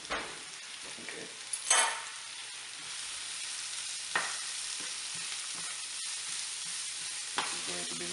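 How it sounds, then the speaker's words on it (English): Onions and bell pepper frying in a pot as part of a Mediterranean meatball soup, giving a steady soft sizzle with a few louder stirring scrapes, all close up and with no talk. "We're going to add onions, and we're going to add some bell pepper"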